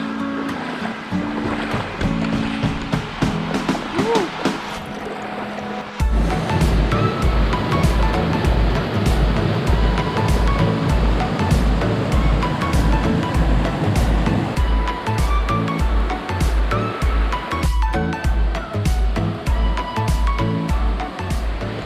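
River water at Talon ni Eva waterfall in Doña Remedios Trinidad, Bulacan rushes continuously, a quieter flowing wash at first that turns into a loud, steady roar with a rhythmic low pulsing.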